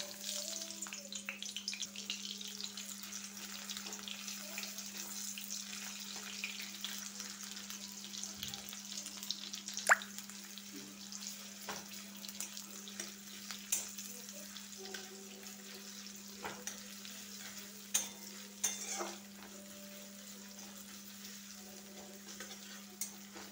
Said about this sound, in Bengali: গরম তেলের মধ্যে আমি পেঁয়াজের কুচি দিয়ে দেব